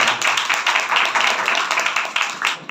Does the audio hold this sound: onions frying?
no